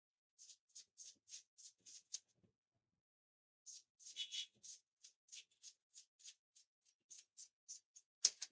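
Scissors cut through suit trouser fabric in a steady run of crisp, close snips. A short pause splits the cuts into two rhythmic bursts in an otherwise quiet room.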